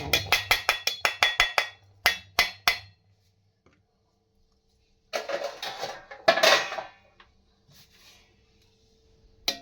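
Metal lid clinks and knocks onto a pot holding soaked idli batter mixed with fresh coconut, a quick run of sharp clatters followed by scraping and a louder clank, then quiet.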